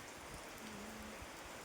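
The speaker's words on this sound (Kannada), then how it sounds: "ಎಷ್ಟು ಚೆನ್ನಾಗಿ ಮಳೆ ಬರ್ತಾ ಇದೆ" Rain falls steadily in the hilly Malnad country near Chikmagalur, a soft even hiss that fills the whole moment with no voices over it.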